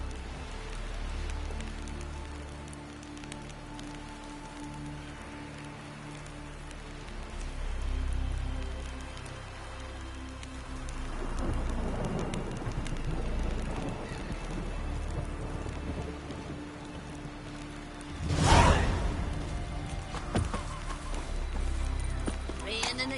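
Rain falls steadily in The Witcher 3, a soft continuous patter with a deep rumble of thunder, and a sharp louder burst near the end. Low game music and voices run beneath it.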